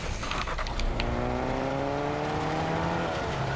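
A car in the Fortnite video game driving with broken tires, its engine droning steadily with rising tones as it picks up speed, loud and continuous with no one talking.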